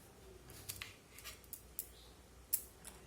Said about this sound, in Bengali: আমি শুধুমাত্র এই কাঁচা টমেটো দুটো দুভাগ করে কেটে নেব।